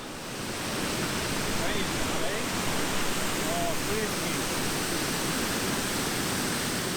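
A steady, dense rush of water falling over a roughly four-metre waterfall of stone blocks in the Beskid Sądecki mountains fills the whole stretch, constant and loud with no breaks.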